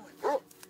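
A Mastiff dog gives a single short, loud bark, close by against a quiet background.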